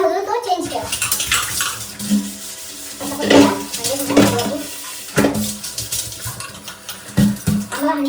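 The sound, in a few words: water running from a newly replaced tap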